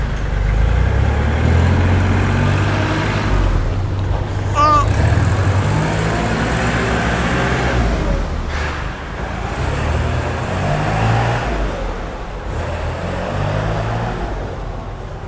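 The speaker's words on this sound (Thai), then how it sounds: "ดี๋ยวเราลองฟังเสียงเครื่องกันดูนะคะ" A used 2013 Kubota L3608 tractor in DT version runs its engine, a steady low rumble held throughout, with someone speaking over it at times.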